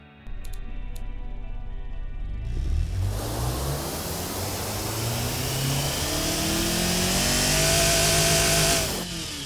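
A twincharged car engine in a racing video game revs hard, climbing from a low growl into a loud, rising whine with turbo and supercharger tones sweeping upward before cutting off near the end.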